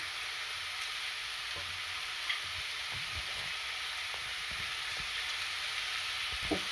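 Green chilli, garlic and curry leaves saute in hot oil in a pan with a steady sizzle and occasional soft stirring scrapes, no voices.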